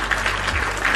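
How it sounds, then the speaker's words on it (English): Brief round of applause on a podcast, a steady wash of clapping from a small group filling the whole second with no talk. "Ladies and gentlemen, a round of applause for Marty."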